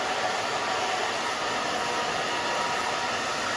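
A hair dryer blows steadily and loudly up close while drying a pixie cut on thick hair, a constant whooshing roar with no breaks.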